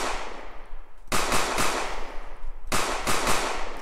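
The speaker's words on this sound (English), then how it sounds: "draw our pistol out, we fire" Rapid bursts of pistol gunfire in a bank heist video game animation, loud close cracks fired in quick strings, with an echoing tail and a brief lull between the two volleys.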